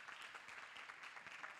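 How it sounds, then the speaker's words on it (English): Audience applause for panelists at a sports and entertainment entrepreneurship summit. A steady wash of clapping sits quiet and distant and continues throughout without a break. "Can we give them another round of applause, please?"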